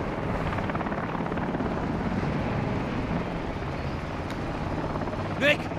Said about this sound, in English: Hey, there's my helicopter.